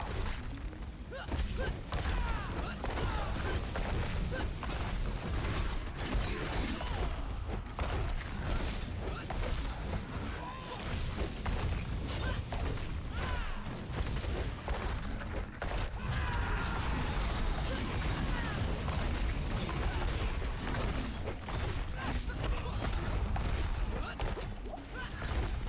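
Barbarian combat in Diablo 4 with repeated overpower explosions, heavy booming crashes and whooshing impacts piling up continuously over dense game noise and music for the whole stretch.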